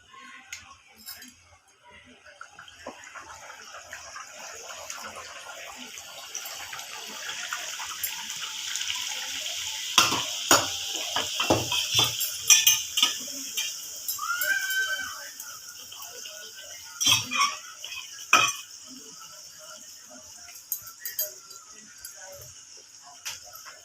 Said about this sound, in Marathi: तेल कडकडीत तापलं आहे तर आपण हा असा उचलून आतमध्ये सोडून देऊ